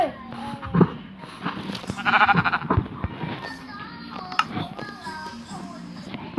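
Sheep bleating in the video game Minecraft, several short bleats scattered among game sounds and clicks, with people talking in the background.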